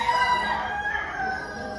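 A rooster at a poultry contest at the Northwest Montana Fair crows nearby, a drawn-out, strained call that fills the moment, with no talking over it.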